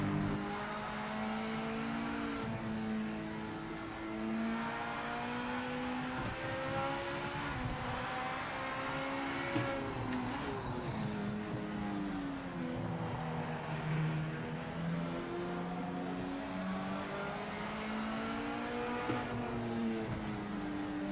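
Race cars in the Project Motor Racing video game drone steadily, their engines climbing and falling in pitch through shifts and corners as the cars race on and off throttle.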